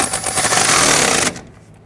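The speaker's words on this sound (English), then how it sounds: "I'm going to come back with my ratchet" A ratchet snugs down a brake hose fitting on a 1999-2004 Jeep Grand Cherokee during a front brake hose replacement, a rapid, loud clicking burr close by for just over a second before cutting off.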